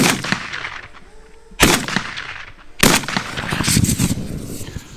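Gunfire rings out outdoors at a simulated drone attack, with two loud, close bursts of shots and a rapid crackle of further fire after the second, separated by quieter stretches with faint background sound.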